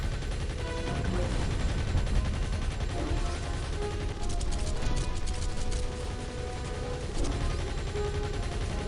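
Steady gunfire rattles throughout a dark level of the video game Psychonauts, dense bursts of shots layered over game music and effects with no pause.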